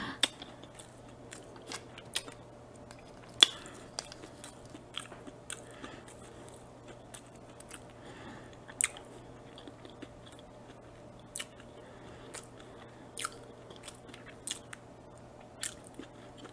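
Close, quiet mukbang chewing of TGI Fridays french fries: scattered crisp bites and soft crunches at an irregular pace over a faint low hum, with no talking.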